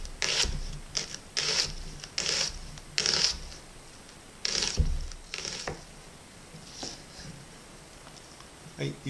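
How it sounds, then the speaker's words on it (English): A knife slices through a red onion on a board with a steady series of crisp, close cuts, several quick strokes in a row, then a slower handful of fainter slices. "Now for slices of red onion."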